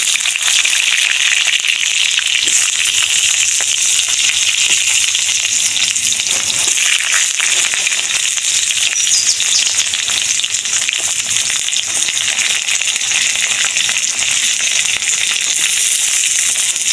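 Potatoes frying in a pan with spices, a steady loud sizzle that runs continuously without a break, with no talk over it.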